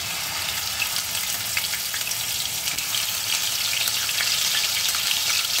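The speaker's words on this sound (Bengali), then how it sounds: "পেঁয়াজটা খুব ভালো করে ভেজে নিতে হবে।" Onion paste fries in hot oil on a low gas flame for chicken kosha, a continuous close sizzle and crackle with no voices.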